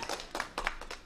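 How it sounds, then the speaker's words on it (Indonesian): Short burst of hand clapping from an audience at a public lecture, a few quick, sharp claps spaced unevenly over about a second, fairly close and with no talk over it. "Kita beri tepuk tangan ya untuk menjawab Nyi Roro Kidul."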